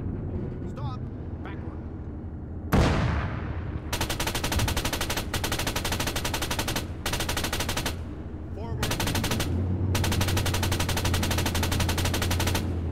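Tank cannon and machine-gun fire in the Arma 3 video game, a heavy main-gun blast followed by long, dense bursts of automatic fire with brief gaps, loud and close over a low engine rumble, with voices talking beneath.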